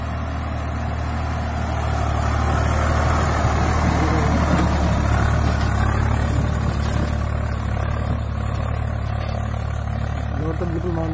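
A 2016 Swaraj 855 FE tractor engine runs under load with a steady, loud, low diesel drone close by and continuous, while someone talks over it.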